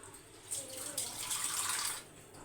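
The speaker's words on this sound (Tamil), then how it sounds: "நம்ம வந்து இன்னும் கொஞ்சம் தண்ணி ஊற்றணும்" Water is poured into an egg curry of broken eggs, a soft splashing pour that rises for about a second and a half and then stops, quiet and close with nothing else over it.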